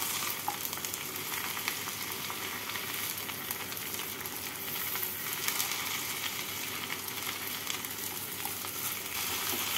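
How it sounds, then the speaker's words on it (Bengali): Pointed gourd and potatoes frying in oil in a pan while being stirred, for an egg and potato chorchori, give a steady, continuous close sizzle with faint scraping, with no talk. "পটলগুলোকে দিয়ে আলুর সাথে নাড়াচাড়া করে নেব।"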